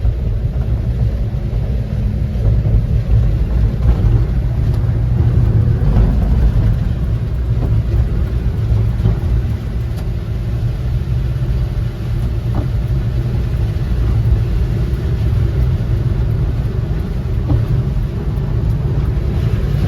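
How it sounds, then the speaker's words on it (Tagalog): Heavy rain drums steadily on a moving vehicle on the road from Davao toward Malalag, with a dense low rumble of engine and tire noise beneath it. The sound is loud and continuous for the whole stretch, with no voices. "Grabe po yung ulan. Mula Davao hanggang dito po."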